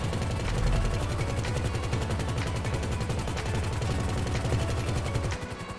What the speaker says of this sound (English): So obviously we have the rockets on here. We can switch between those and the machine gun.